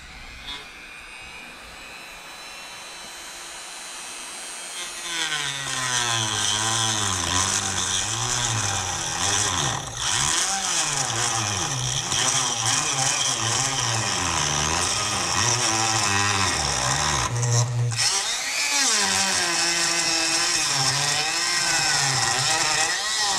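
A power tool cuts into a cheap cast turbo exhaust manifold, starting with a quiet lead-in and then a loud, steady, close whine that rises and falls in pitch as the cut goes on, with no talking over it.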